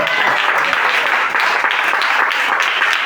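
A church congregation claps in steady, dense applause that stays loud and continuous throughout, with voices faintly mixed in beneath.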